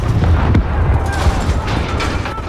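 An explosive detonation in Call of Duty: Modern Warfare (2019) gives a heavy, rumbling blast that fills the whole stretch with dense, booming noise, with voices mixed in.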